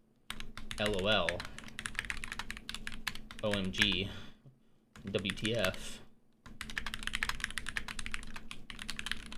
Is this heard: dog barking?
no